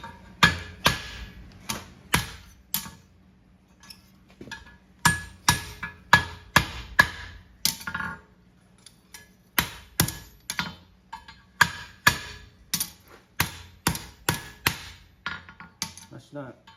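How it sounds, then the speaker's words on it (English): A farrier hammers the clip of a homemade horseshoe over an anvil horn, sharp ringing metal strikes landing in uneven bursts of two or three, close and loud, with short quiet gaps between groups. "we'll take it over the horn and just kind of bring that clip in a little bit"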